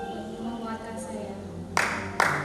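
Audience applause at a Christian wedding ceremony, two short, sharp bursts of clapping near the end, following a stretch of sustained tones and background sound.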